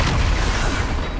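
A Confringo fire spell explodes in the Hogwarts Legacy video game, a single loud, close, booming blast with a rumbling tail and no talk over it.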